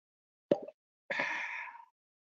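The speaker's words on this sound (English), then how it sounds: "that was a wonderful cork pop right there" Cork pulled from a Garrison Brothers small batch bourbon bottle: a single sharp pop, then a brief airy hiss, clear and close in a quiet room.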